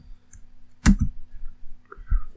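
A computer keyboard is used to type a command into a Linux terminal, heard as a few sharp, close key clicks spaced apart against near silence.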